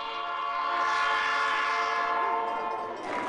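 An E&N Railway train arriving at Nanaimo sounds a loud, sustained horn, a steady multi-tone blast held for about three seconds close by, with faint rail rumble underneath.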